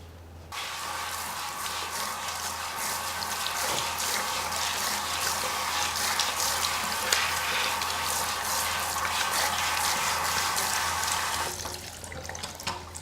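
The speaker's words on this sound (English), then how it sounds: "This is how you wash the lace system." Tap water runs steadily over a lace hair system being washed in a sink, a close, continuous splashing flow that starts abruptly and cuts off near the end.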